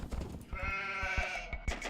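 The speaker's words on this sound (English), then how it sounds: "Your first 6 villagers should gather sheep." Sheep in the Age of Empires strategy game give a quiet, wavering bleat that holds for about a second, with faint game clicks and soft thuds around it.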